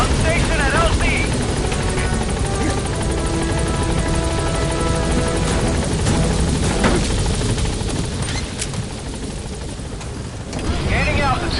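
Helicopter in the video game Metal Gear Solid V: The Phantom Pain, a loud steady rotor and engine roar throughout, easing slightly near the end as it lifts off and departs, with radio-style voice chatter under it.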